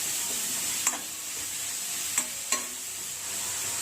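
Onions sauté in a pan for bread masala: a continuous hissing sizzle broken by three sharp spatula taps against the pan.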